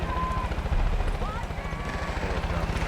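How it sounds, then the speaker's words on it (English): Helicopter flying in the video game Far Cry 5, a rapid rhythmic rotor thumping that continues steadily throughout, with a voice talking over it. "Helicopter."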